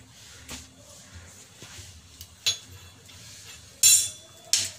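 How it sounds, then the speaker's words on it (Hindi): A small metal spoon clinks against a kadhai while oil is added for a karela fry, giving a few sharp, bright taps spaced irregularly, with the loudest two near the end over a quiet kitchen background. "ये छोटा वाला चमचा है मेरे पास, इसमें हम 2 चम्मच करीब तेल डालेंगे।"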